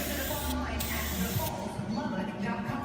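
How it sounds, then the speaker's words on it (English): Primer sprayed from a spray gun over sanded body work on a 1963 Shasta Compact camper, a loud, steady close hiss that runs unbroken for a few seconds. "So now you take and run primer over it and do a visual test."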